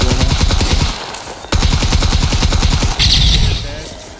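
AK rifle fire in a video game: loud, rapid automatic bursts with a short pause near one second and another break at three seconds, steady and close.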